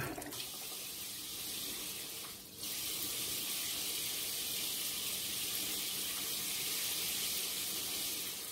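Semizotu (purslane) being washed under running water in Türkiye: a steady, close splash and hiss of a running tap, continuous for the whole stretch, with one brief interruption early on.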